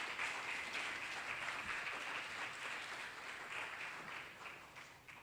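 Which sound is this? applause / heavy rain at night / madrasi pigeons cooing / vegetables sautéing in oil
applause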